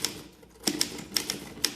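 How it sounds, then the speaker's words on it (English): Typewriter keys strike in short, irregular bursts, crisp sharp clacks close up with brief pauses between groups of keystrokes and no talking. "the story behind Tom Hanks and his typewriter"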